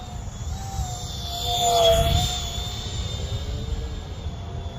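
An FX9631 J35 brushless EDF RC jet makes a whining ducted-fan roar on its maiden flight over light snow. It swells as the jet sweeps past with a clear pitch shift, then fades, and no one speaks.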